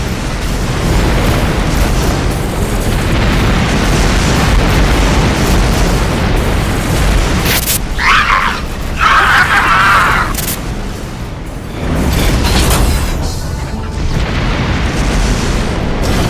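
Incoming missile explosions in the space combat game Rebel Galaxy, a dense, loud rumble of booms and blasts rolling almost continuously, with a few sharper bursts standing out near the middle.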